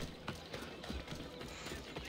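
A horse's hooves clip-clop in Assassin's Creed Odyssey, a quiet, steady trotting rhythm of soft knocks throughout with no talk.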